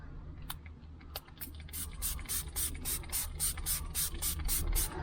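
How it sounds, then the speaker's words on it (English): A handheld spray bottle mists water onto a car screen protector for a Toyota Corolla, two spaced squirts followed by a rapid run of about a dozen hissy sprays, close and fairly quiet over low background hum. "spray the back really good as well"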